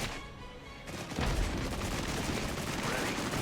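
DPICM artillery fire in the Regiments war game, a broad roaring barrage that builds after a quieter start and then rumbles on steadily with many overlapping small detonations at middle distance.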